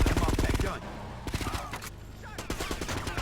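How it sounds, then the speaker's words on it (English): Bursts of gunfire in GTA Vice City Stories come as rapid automatic volleys, with several quick separate rattles and shots spread across the moment, loud and close, and some talk faintly underneath. "there are people shooting at you"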